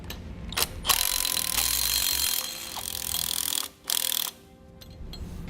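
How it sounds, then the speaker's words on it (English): Nylon lock nuts with flat washers being snugged down onto carriage bolts while fitting Air Lift LoadLifter 5000 air helper springs, heard as close mechanical ratcheting and tool noise in bursts, with a couple of brief pauses. "Now we can snug our nuts down here."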